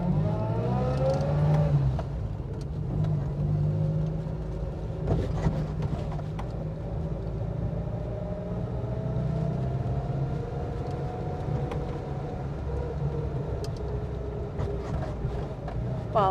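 Riley One-Point-Five 1950s car pulling away on a drive, the engine rising in pitch through the revs then easing into a steady cruising hum, with some wind noise and light rattles around it.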